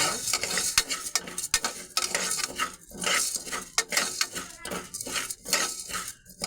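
Toor dal roasts in a pan while a metal utensil stirs it, giving repeated close scraping, clinks and rattles against the pan with a faint frying sizzle underneath.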